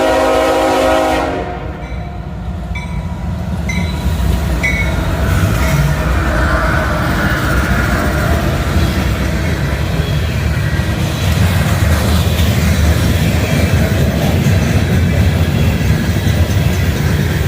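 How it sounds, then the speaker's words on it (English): A train rumbles past close by at Point of Rocks, Maryland, loud and steady, with a drawn-out horn blast sounding near the start over the continuous rolling clatter of the cars. "waiting for the train to pass"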